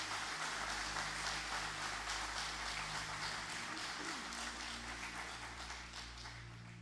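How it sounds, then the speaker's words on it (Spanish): A church congregation claps together during a Spanish-language sermon, with dense steady applause over a low organ-like hum of sustained tones, fading slightly near the end. "Dale un fuerte aplauso a Jesús."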